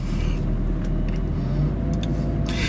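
A 493 hp 2004 Mercedes-Benz SL55 AMG with the Designo package rumbles steadily while driving, a constant deep engine drone heard from close by with no talk.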